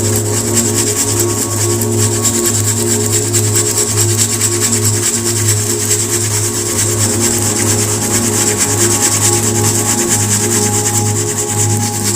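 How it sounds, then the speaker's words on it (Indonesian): A bag stained with ink is rubbed firmly and repeatedly to lift the stain, producing a loud, continuous scratchy rubbing with a steady low hum underneath. "Lalu kita gosok lagi sobat seperti ini"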